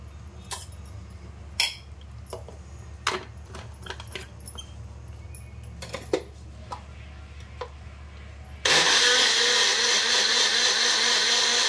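Boiled colocasia for a Maharashtrian alu fadfad is ground in an electric mixer grinder. Scattered clicks and knocks come first, then the motor bursts into a loud, continuous whirring roar for the last few seconds.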